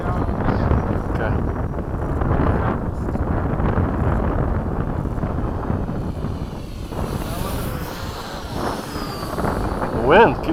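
Strong gusting wind buffets the microphone at an outdoor RC plane flying field in Oakdale, a loud continuous rumble with a faint model aircraft whine rising near the end and voices talking over it.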